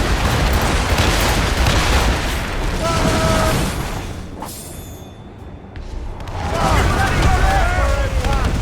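Heavy booms of ship cannon fire in Assassin's Creed Rogue roll through a loud naval battle, easing off midway before building again, with voices in the mix.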